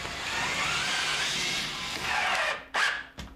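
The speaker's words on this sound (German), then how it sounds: "Hier wird die Schiene der Schiebetür angeschraubt." A sliding door rail being screwed onto a built-in wardrobe, a continuous close whirring power drill that winds down and then gives two short final bursts.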